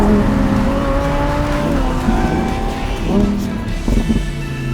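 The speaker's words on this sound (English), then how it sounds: "if you don't want to be heard driving your supercar, you should not be driving a Lamborghini, and especially not the Huracan Evo Spyder" A Lamborghini Huracan Evo Spyder supercar drives loud and close, its engine droning steadily with shifting pitch and brief revving surges throughout.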